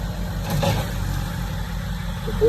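A Kubota tractor fitted with a grapple runs nearby during homestead land clearing, its engine a steady low idling rumble with only slight swells and no talk over it.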